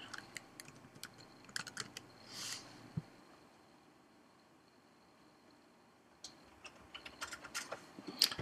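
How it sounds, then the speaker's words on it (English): Password typed on a computer keyboard in a quiet room, a few short bursts of soft, close key clicks separated by a silent stretch in the middle. "Type in my password."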